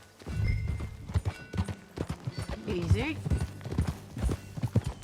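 Horse hooves clip-clop steadily in Red Dead Redemption 2 as a mare is ridden, the rhythmic footfalls close and clear under short bursts of conversation between riders.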